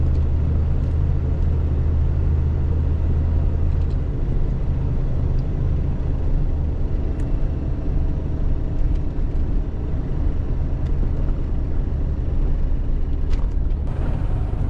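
A vehicle hauling a trailer drives along a road near Kyiv, giving a loud, continuous low engine rumble and road noise from inside, steady throughout with no talk.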